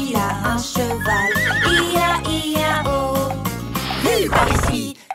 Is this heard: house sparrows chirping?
no